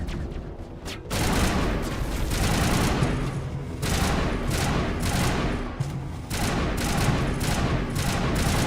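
Rocket fire and explosions in the video game Mass Effect Legendary Edition: rapid, continuous bursts of blasts and gunfire with no letup, loud and close, with a brief lull after the first second.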